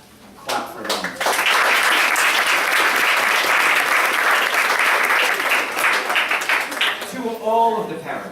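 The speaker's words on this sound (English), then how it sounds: "Clap for them." A banquet audience breaks into loud, sustained applause that swells quickly and holds steady, with a voice speaking near the end as the clapping fades.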